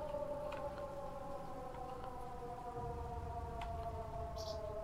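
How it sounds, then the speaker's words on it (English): Wailing air raid sirens in the WWII shooter game Sniper Elite 5, a steady pair of droning tones holding on and rising faintly in the distance, with a few small clicks and thuds of gameplay underneath. "they're not raising the alarm because they've the air raid sirens are going off"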